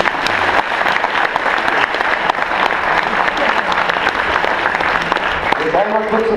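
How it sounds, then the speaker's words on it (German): Audience applause at an integration evening in Bottrop, a loud, dense and sustained burst of clapping from a crowd that fills the whole stretch, with a voice emerging faintly near the end. "Ein Applaus bitte."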